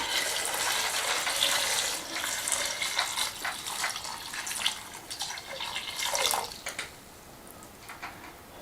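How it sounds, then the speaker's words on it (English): Clean water pours and splashes into containers at an off-grid finca, a steady rushing stream that gradually breaks into gurgles and drips as the flow eases off, with no talk. "So we just fill them up again with water"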